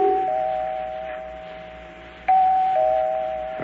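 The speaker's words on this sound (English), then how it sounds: "I rang the bell. Kept ringing and ringing." An apartment doorbell rings in two separate presses, each a sustained electronic two-tone chime that rings on and fades slowly, close and clear against a quiet room with no talking.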